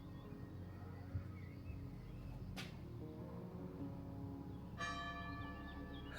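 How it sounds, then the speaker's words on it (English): A church bell in the Italian town of Prezza strikes twice in the distance, each clang ringing out and slowly fading over a steady low background hum. "Always a good sign to hear a church bell."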